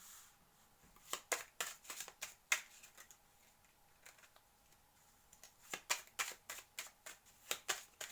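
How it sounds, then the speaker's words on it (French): Cards drawn from a deck for a reading: quiet clusters of soft, quick flicks and slides, two bursts separated by a pause, faint and close with no talking. "Donc on va tirer une dernière carte pour leur couple."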